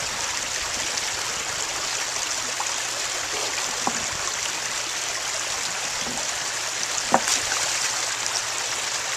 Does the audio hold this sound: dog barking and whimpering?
no